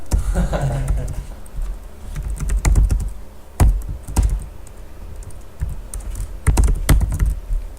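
Computer keyboard typing while writing JavaScript code: irregular clusters of close, clicky keystrokes with occasional louder thunks and short pauses, and faint background noise throughout.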